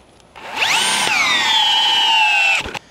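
A Bosch 1330c drill in speed 2 drill mode drives a 6-inch spike, a steady high whine rising as it starts and holding loud and even for about two seconds before cutting off, with a short rattle at the end.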